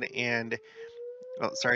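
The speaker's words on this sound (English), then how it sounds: "there goes the daily siren." A steady, faint daily noon siren holds a single pitch behind a person speaking, rising slightly as the talk pauses and resumes.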